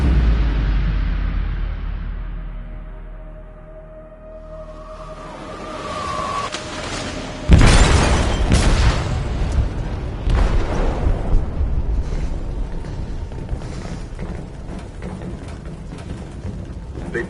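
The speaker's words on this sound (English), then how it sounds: "They detonated an explosive in the hold." A game explosive detonates inside a ship's hold with a sudden loud, deep boom, followed by rumbling debris and crashing that rolls on for several seconds.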